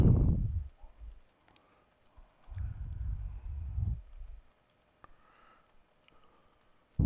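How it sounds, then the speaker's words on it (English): Keys clatter on a computer keyboard as literal text is typed into a label-layout field in FileMaker, short clustered runs of close, soft clicks separated by quiet pauses. "In this label contents box, we can type any literal text such as"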